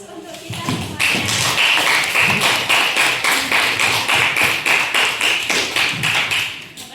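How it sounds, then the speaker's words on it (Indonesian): A classroom group claps together in a rhythmic, even beat, steady and fairly loud for several seconds before tapering off at the end. "beri aplaus untuk kita semuanya"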